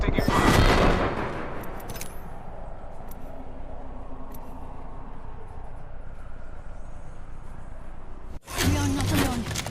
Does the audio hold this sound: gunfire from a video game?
yes